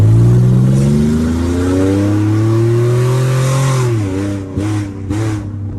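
A VR30-swapped Infiniti G37 engine revs up while driving, its tone climbing steadily and loudly before dropping off, followed by a couple of short bursts of crackling exhaust noise close by.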